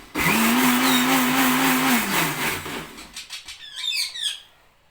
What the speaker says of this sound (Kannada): ನೀರು ಹಾಕಿ ಮಿಕ್ಸಿ ಮಾಡ್ಕೊತೀನಿ